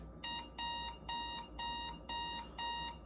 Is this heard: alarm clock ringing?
yes